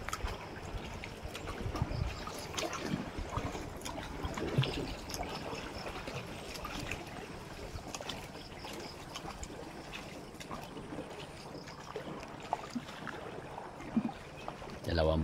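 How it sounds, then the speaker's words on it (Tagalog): Wooden paddle strokes move a small bangka through farm floodwater, a steady low wash and trickle of water running throughout at moderate distance, with voices talking at times over it. "Sasagwan lang kami mga idol."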